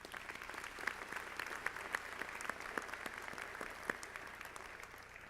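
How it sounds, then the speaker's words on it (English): Audience at a medical school graduation ceremony applauding the graduating class, a sustained wash of clapping hands, fairly distant and moderate, with no one speaking over it. "Can we please give my entire class a huge round of applause?"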